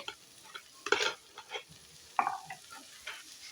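Bread toast masala mix is stirred in a pan, a spoon scraping and clinking in a few sharp, separate strokes over a faint sizzle.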